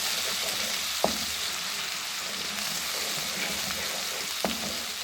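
Frying white cumin seeds crackle and sizzle steadily in a hot pan for lauki chana dal, with a couple of sharp stir clicks against the pan, close up and alone without talk.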